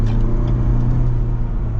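Ford Bronco Everglades cruising along, a steady close engine and road rumble with a low droning hum, even and continuous without any voices.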